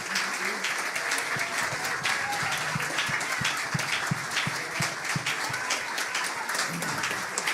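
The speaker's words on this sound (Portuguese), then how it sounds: "Podemos dar uma salva de palmas maiores." Steady, sustained applause from an audience at a church's 25th anniversary celebration, many hands clapping continuously throughout without pause.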